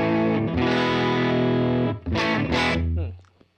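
Distorted electric guitar through a UAFX Ruby '63 amp pedal with a thick, mid-heavy tone: a sustained chord, then a few short stabs that ring out and fade.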